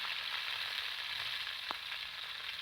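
Green chillies frying in hot oil with cumin and green garlic, a soft steady sizzle with a single sharper clink partway through, no one speaking.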